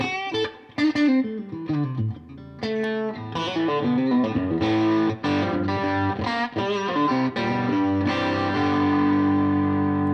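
Electric guitar through an overdrive pedal at low volume, amp in 25-watt mode, with a gritty tone, strummed chords and single notes ringing out, then a sustained chord fading, with no talking.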